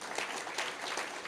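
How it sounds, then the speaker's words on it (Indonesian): A church congregation claps steadily, a dense wash of applause heard at a moderate distance and somewhat faint. "Tepuk tangan buat Tuhan Yesus."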